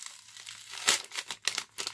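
Paper or plastic gift sachet tied with a bow being opened up close, with soft crinkling and a few sharper rustling crunches in quick irregular bursts, fairly quiet.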